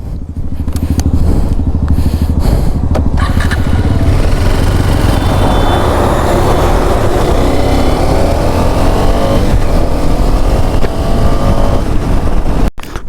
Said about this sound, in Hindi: ये वाला एग्जॉस्ट हमने बाइक में इंस्टॉल करवाया है, काफ़ी अच्छा एग्जॉस्ट है।